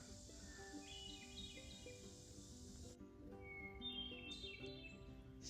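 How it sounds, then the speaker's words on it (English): A songbird sings on a morning along the Appalachian Trail, a faint series of bright whistled notes and chirps repeating over soft outdoor background noise, with no voices. "There's a very happy bird out there this morning."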